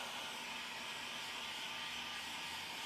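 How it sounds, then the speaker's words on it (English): A heat gun set to high, warming 3M vinyl wrap film for a mirror, gives a steady, loud, even blowing hiss with no break and no voices. "So we might bump that heat gun up to high and we'll put a whole bunch of heat into it"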